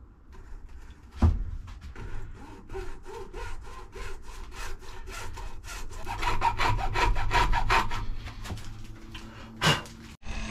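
Metal bracket being cut down by hand to fit the airbox on a BMW K100 café racer build, a steady run of rasping saw strokes growing louder and quicker midway, with a sharp knock near the start and another near the end.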